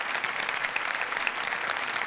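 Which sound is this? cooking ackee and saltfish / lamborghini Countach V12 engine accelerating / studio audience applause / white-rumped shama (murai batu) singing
studio audience applause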